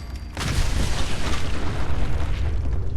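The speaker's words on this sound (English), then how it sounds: "let's just toss some Nuka grenades in" Nuka grenades going off in Fallout 4, a sudden loud boom after a brief quiet moment, followed by a sustained roaring rumble of blasts and debris that fills the rest of the moment.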